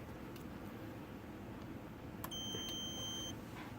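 An EggTimer Quark rocket altimeter gives one long, steady electronic beep lasting about a second, faint against a low background hiss.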